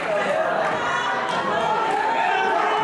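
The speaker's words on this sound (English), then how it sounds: "crowd's enjoying it." A crowd at a live wrestling match for the Infinity Championship cheers and chatters in a steady, loud wash of noise with voices mixed in.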